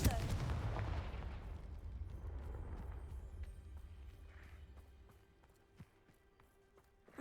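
A single booming Confringo spell blast in Hogwarts Legacy hits hard at the start and fades into a rumbling decay, followed by quieter game ambience and a few faint clicks.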